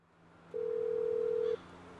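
A single steady ringing tone from a phone call placed to a number on a container in GTA 5, one sustained beep of about a second over a faint low hum, with no voices.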